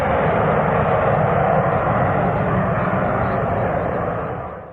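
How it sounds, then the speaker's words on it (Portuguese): A Soviet Yak-38 Forger VTOL jet aircraft gives off a loud, steady engine roar throughout, fading slightly at the end, with no voices. "Este é o Yak-38 Forger."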